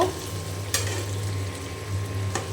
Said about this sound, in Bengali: পিসগুলো সব দিয়ে দিয়েছি এখন আমি উল্টায় উল্টায় একটু কষিয়ে নেব